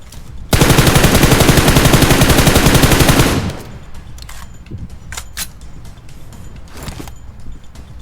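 Rapid automatic gunfire rattles loud and close for about three seconds in the PUBG Mobile battle royale game, fired blindly from inside a smoke screen, followed by scattered sharp clicks, shots and faint game noise.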